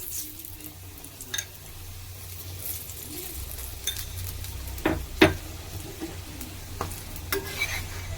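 Oil sizzles steadily as a green pea paratha fries on a hot griddle, broken by a few sharp clinks and scrapes of a spatula.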